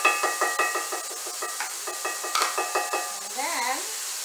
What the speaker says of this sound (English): the garlic, ginger, and onions. You saute.